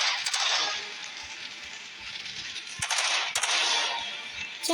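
Rapid gunfire in the Roblox video game, with bursts of cracking shots over a dense, steady hiss of game noise and a couple of sharper, louder shots near the end.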